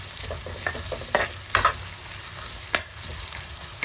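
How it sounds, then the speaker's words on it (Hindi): Thick-cut onions and garlic frying in a pan for kadhi pakora, with a steady close sizzle and several sharp scrapes and clinks as a spoon stirs them. "हमें प्याज को ज़्यादा नहीं भूनना, बस हमें इसे थोड़ा सॉफ्ट होने तक पकाएंगे।"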